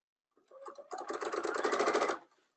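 A sewing machine stitches ruffled tutu fabric at a shortened stitch length, a quick start-up whir followed by about a second and a half of steady, close, fast mechanical stitching, with no voices.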